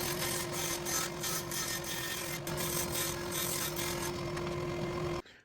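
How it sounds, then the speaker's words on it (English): A power saw rips strips from 1/4 inch plywood, a steady loud whine with a constant motor tone running throughout before cutting off abruptly at the end. "We're going to just cut a couple of strips out of this to make the splines."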